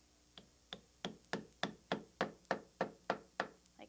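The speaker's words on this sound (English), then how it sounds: "you just take a hammer and tap the lead anchor in because it wants to bite into the concrete" A hammer taps a soft lead anchor into a drilled hole in basement concrete: about ten sharp, evenly spaced knocks, each with a short ringing decay, close up and alone with no talk.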